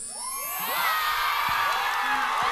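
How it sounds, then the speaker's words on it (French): A studio audience at a French television show flashmob cheers, whoops and shouts in a loud sustained roar that builds quickly and stays full, with excited voices rising through it. "Tonnerre d'applaudissements s'il vous plaît."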